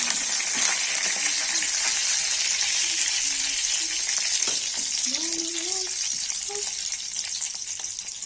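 Peanuts, curry leaves and green chili frying in hot oil for a tempering for jhal suji upma, a loud, steady, close-up crackling sizzle, with a voice speaking softly over it.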